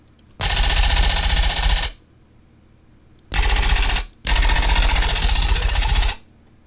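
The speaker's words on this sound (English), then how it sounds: "But I love machine gun basses." A heavy 'machine gun' synth bass preset fires in three loud bursts of rapid, stuttering, full-range pulses, each lasting one to two seconds and separated by short silences.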